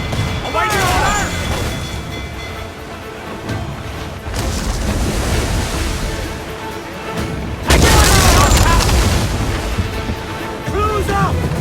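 Ship cannons firing during a naval battle in the video game Assassin's Creed IV Black Flag, with heavy booms and crashing blasts over constant sea and combat noise, a big blast near the eight-second mark, while crew shout orders throughout.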